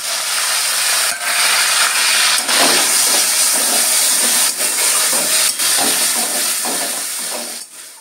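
Onions frying in oil after prawns are lifted out, for a Bengali-style echor chingri dish, give a loud, steady hissing sizzle throughout with brief dips, close up and without talk.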